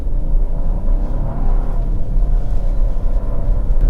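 A 2026 Chevrolet Trax LT with a turbocharged 1.2-liter inline three-cylinder engine driving, a steady low cabin drone and road rumble, with no speech.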